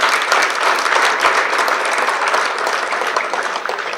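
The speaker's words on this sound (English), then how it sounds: "Please give her another round of applause." Sustained applause from a conference audience for a keynote speaker, a dense, steady wash of many hands clapping at full volume with no pauses.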